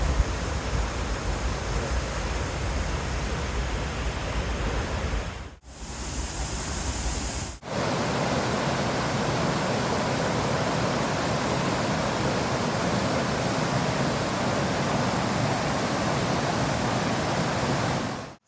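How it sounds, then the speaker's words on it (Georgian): Ninoskhevi waterfall in the mountains roars as a steady, dense wash of loud rushing water that fills the whole stretch, briefly shifting in tone partway through before the constant torrent returns. "აი თქვენ წინაშია ნინოსხევის ჩანჩქერი."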